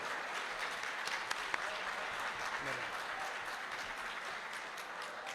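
Audience applause at a mushaira poetry recital during a mango festival: a quiet, even wash of crowd clapping heard from a distance, with a few sharper claps and faint voices underneath.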